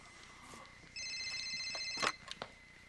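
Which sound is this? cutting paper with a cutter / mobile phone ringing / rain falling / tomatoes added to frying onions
mobile phone ringing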